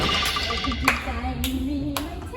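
Hands clap in four separate, fairly crisp claps spaced roughly half a second apart, set against a faint humming tone and background murmur.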